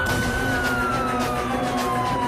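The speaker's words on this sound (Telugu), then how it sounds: "ఊళ్ళోకి పోలీస్ జీప్ వచ్చిందంట." A police jeep siren wails in a continuous, slowly sliding tone, loud and close over vehicle rumble, heard alone without talk.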